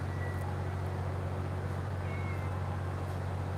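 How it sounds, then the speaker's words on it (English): A friendly cat meows on a street in Central Hong Kong, a soft call heard faintly under a steady, loud low hum of city traffic and background noise. "she just meowed at me"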